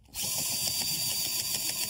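A screw gun fitted with a shear attachment cuts through fiber cement siding, giving a steady, close, high-pitched whirring grind that starts abruptly and runs without pause.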